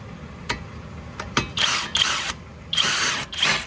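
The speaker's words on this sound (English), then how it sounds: "Let's take an open end wrench and then another wrench here and then twist it." Open-end wrenches working a steering rack fitting on a Ford Fusion, giving a few sharp metallic clicks followed by several bursts of harsh scraping, ratcheting noise, close and fairly loud with pauses between them.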